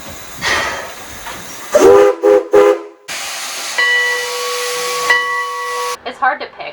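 A steam train whistle blows in long sustained tones with a hissing steam background, preceded by shorter choppy blasts and followed by a few fading bursts, loud and close.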